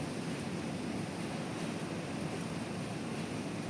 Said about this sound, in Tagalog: Pahinto-hinto yung hangin tsaka yung ulan.